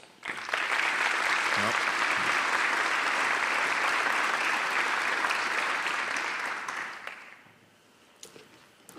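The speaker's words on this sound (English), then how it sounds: "Please give a round of applause again for the whole class." Sustained applause from the audience at a fire department recruit graduation ceremony, loud and steady for about seven seconds before fading into quieter room noise.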